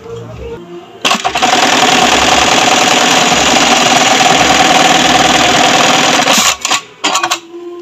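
Brother MEB-3200J eyelet buttonhole sewing machine running in a loud, close, continuous mechanical chatter for about five seconds, then stopping with a few short clunks, speech faintly present before and after.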